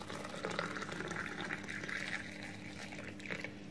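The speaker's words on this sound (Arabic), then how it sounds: "وهقوم حاطه وهنزل عليها بكوبايه ميه مغليه كده اهوت" Boiling water from a cup is poured over half a lime, a faint, continuous close pouring and fizzing that stays steady throughout.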